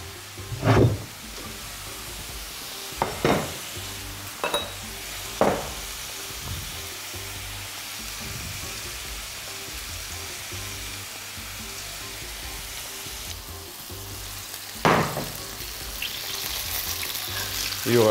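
Flour-dusted dough pieces fry in oil in a pan, making a continuous close hiss broken by a handful of sharp utensil clinks and scrapes, with no talking.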